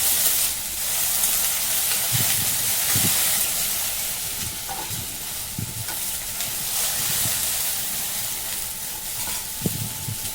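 Okra (bhindi) stir-fried in a pan, a steady loud sizzle and hiss with occasional soft scraping stirs of a spatula, continuous throughout.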